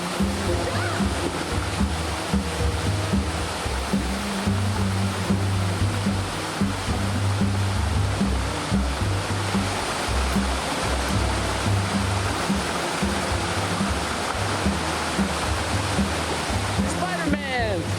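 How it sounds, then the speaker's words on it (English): At Hin Lat Waterfall on Koh Samui, Thailand, water roars and rushes in a loud, steady, close wash that never lets up for the whole stretch. "just the sound of the water rolling through here"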